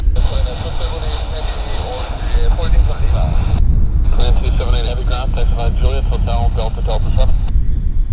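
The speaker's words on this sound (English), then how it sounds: "Here's that inbound you guys were talking about. And it's a citation, our fourth today." Steady jet engine roar of an arriving Cessna Citation at Vancouver Airport, continuous and fairly loud, with a person talking over it throughout.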